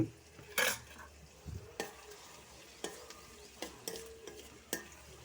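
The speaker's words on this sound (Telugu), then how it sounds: "ఆనియన్స్ని చక్కగా తిప్పుకోవాలి" Onions with turmeric and salt being stirred in a frying pan, a soft sizzle under a handful of distinct spoon scrapes and taps spaced every second or so, fairly quiet and close, with no voices.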